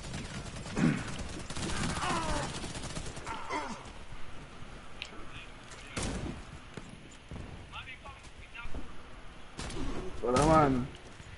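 Bursts of gunfire in the Warface online shooter crackle in short volleys, with players talking and reacting loudly over the shots.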